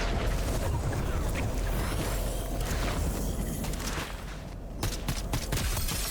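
Gunfire in the Fortnite video game, a rapid run of sharp shot cracks and booms over dense game noise, with a brief lull before a few more close bursts.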